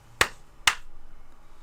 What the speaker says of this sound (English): I'll do a clap just to sync everything.